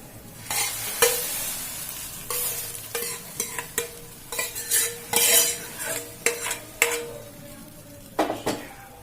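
Fried beans and carrots tipped into a boiling pot of Java made with singhara flour, then stirred with a metal spoon in close, bursty scrapes and clinks over a steady bubbling sizzle, with no talk.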